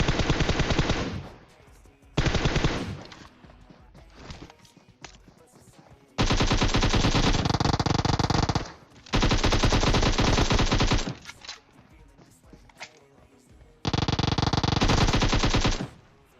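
Bursts of automatic rifle fire in the battle royale game PUBG, four or five long sustained volleys with short pauses between them, loud and close.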